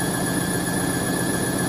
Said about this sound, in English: The motor speeding up a bit.